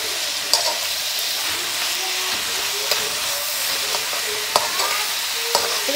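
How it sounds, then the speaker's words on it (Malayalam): Ginger, garlic and green chili stirred into Kerala-style duck curry in a pan, a steady close sizzle and hiss with scattered scraping clicks of the spoon, no voices. "ഇഞ്ചി വെളുത്തുള്ളി പച്ചമുളക് ഇത്രയും കൂടെ ആഡ് ചെയ്ത് നന്നായിട്ട് മിക്സ് ചെയ്യാം"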